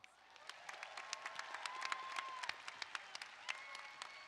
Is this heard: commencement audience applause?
yes